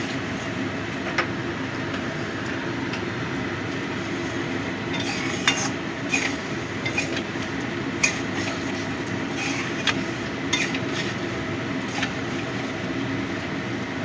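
Chicken being stirred in a pan while making butter garlic chicken, with steady low sizzling throughout and light, irregular metallic taps and scrapes of the utensil against the pan.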